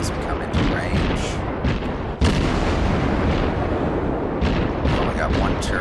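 A cruiser's naval guns fire during a World of Warships battle, loud booming salvos rolling into one dense roar with sharp bursts, heavy and continuous, with a voice talking over it.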